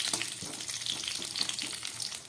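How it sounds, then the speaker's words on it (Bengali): Cauliflower florets frying in hot oil for Bengali labra, a steady close sizzle with scattered crackles and light stirring clatter throughout. "এবার এর মধ্যে আমি ফুলকপিগুলোকে ভেজে নেব।"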